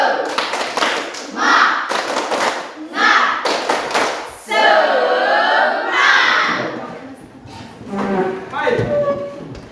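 A classroom group performs a rhythmic spirit clap as a teacher's ice-breaker, with bursts of patterned clapping mixed with shouted chants and voices, loud and close, pausing between rounds.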